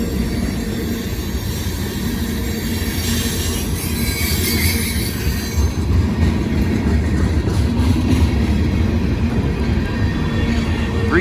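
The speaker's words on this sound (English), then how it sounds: "Hey, that was a good train." A grain train with severe wheel flat spots rolls past a railroad gate up close, wheels squealing and railcars rumbling loudly and continuously, with rhythmic clatter throughout.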